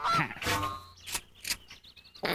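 Duck quacking in a TV commercial, a string of short nasal honking calls spread through the clip, fairly loud and close, with broadcast music or ad audio mixed underneath.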